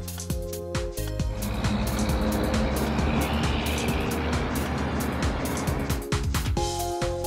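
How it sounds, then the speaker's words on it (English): A cartoon flatbed truck roars past at close range with a loud, continuous engine growl. Whooshing swells rise and fall through the middle, and a few sharp tonal blips come at the start and end. "Flatbed truck"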